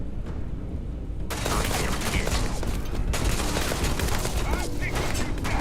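Rapid bursts of gunfire from the sci-fi video game Starfield, starting abruptly after a quieter opening and then continuing as dense, sustained volleys with a voice partly heard over the shooting.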